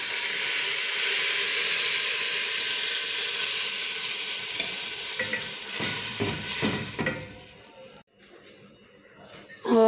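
Milk is poured into golden vermicelli (methi sawaiyan) frying in a pan. A loud, steady sizzle turns rougher and bubbly, then cuts off abruptly.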